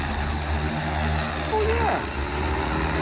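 Heavy lift drone propellers spooling up on a first flight, giving a steady, loud broadband whir with a faint rising tonal sweep near the middle, and a brief exclamation from someone nearby.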